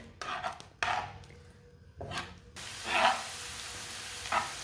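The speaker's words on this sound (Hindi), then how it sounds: "एक बारीक कटा हुआ प्याज, प्याज को ना 2 मिनट के लिए पका लेंगे।" Finely chopped onion frying in oil or ghee, hissing sizzle with intermittent bursts as the onion is stirred and tossed in the pan, moderately close and fairly quiet.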